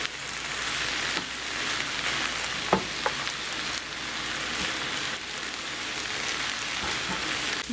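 Prawns in a thick gravy fry in a pan for a Kerala shrimp roast, a continuous close hiss and sizzle with a few sharp scraping stirs partway through, and no voices.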